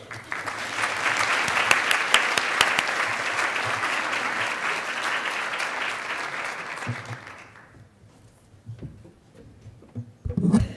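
Audience applause welcoming Dr. Patricia Griffin at the opening session of a consumer food safety education conference, a steady sustained ovation that fades out after about seven seconds, followed by brief quiet and a faint voice.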